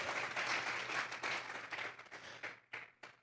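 A church congregation claps together as an offering of praise during a sermon, a moderately faint burst of applause that thins into a few scattered, separate claps.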